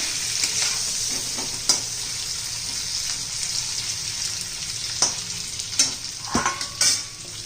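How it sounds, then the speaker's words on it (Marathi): Masala-stuffed bitter gourds frying in oil, a steady close sizzle broken by occasional scraping and clattering stirs that grow busier toward the end, no speech. "बारीक करून घेतल्यानंतर तेलामध्ये चांगली परतून घेऊया"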